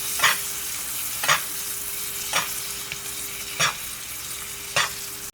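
Pork chops sizzling in a cast iron pan while being basted, a steady close sizzle broken by five evenly spaced bursts of spattering as fat is spooned over.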